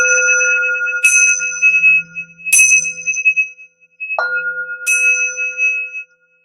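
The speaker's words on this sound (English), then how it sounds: "both those bells." Bright metallic bells struck four times at spaced intervals, each ring sustaining with a clear shimmering tone that slowly fades before the next strike.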